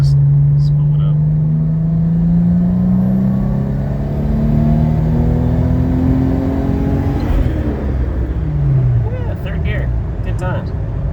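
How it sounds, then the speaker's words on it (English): A 1988 BMW 528e engine revs loudly and climbs in pitch through a rev-matched double-clutch downshift into third gear, then drops as the car pulls away on an open road, with talk over the engine throughout. "do yourself a nice rev match, double clutch downshift, put it in a third gear"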